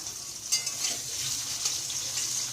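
Potatoes frying in hot oil in a home kitchen, a steady close sizzle with brief crackling bursts and no talking.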